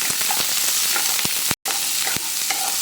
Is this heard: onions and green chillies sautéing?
yes